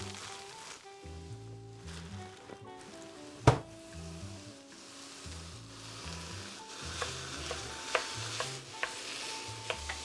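Ground beef and onion frying in a pan, a soft continuous sizzle broken by repeated scraping stirs of a utensil and one sharp clack, no talking.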